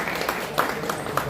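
Scattered hand claps from a crowd at the opening of a cooperative savings society branch in Wankaner, a few soft bursts spaced roughly evenly over steady room noise.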